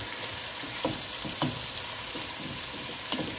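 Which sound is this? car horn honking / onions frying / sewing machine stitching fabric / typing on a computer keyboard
onions frying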